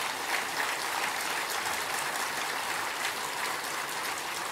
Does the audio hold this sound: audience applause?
yes